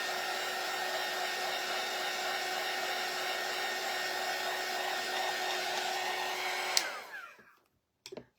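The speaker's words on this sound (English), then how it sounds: "I'm just going to give this a quick dry." A hair dryer blows steadily and close on a craft door hanger, a loud even whirring hum that cuts off near the end and fades to quiet, followed by a brief thump.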